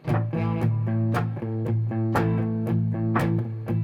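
A guitar strummed in quick, even down-and-up strokes, close and moderately loud, with sharp strum attacks over a sustained ringing chord.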